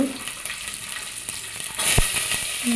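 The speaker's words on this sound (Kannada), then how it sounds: "ಈಗ ಇದಕ್ಕೆ ತೊಳ್ಕೊಂಡು ಹಚ್ಕೊಂಡಿರೋವಂಥ ಮಿಕ್ಸ್ ತರಕಾರಿನ ಸೇರಿಸೋಣ." Chopped beans, carrots and potatoes are tipped into a hot pan of oil with onions and curry leaves for sambar. A steady close sizzle swells into a louder hiss after a soft thump as the vegetables land.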